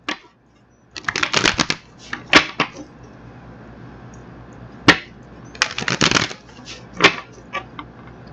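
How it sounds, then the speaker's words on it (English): Tarot cards are shuffled by hand in several quick riffling bursts, each a crisp flurry of card slaps separated by short pauses, close and clear. "we're going to get these cards shuffled there"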